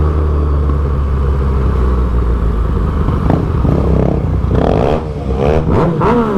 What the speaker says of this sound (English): Oh man, you just can't get enough of that sweet sounding triple.